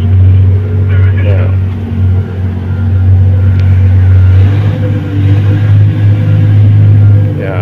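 A Komatsu HD785-7 dump truck accelerates during operator training, its heavy diesel engine holding a loud, steady low rumble that swells as the throttle is pressed, close and continuous throughout.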